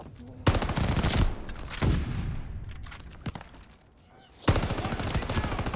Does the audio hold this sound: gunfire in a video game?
yes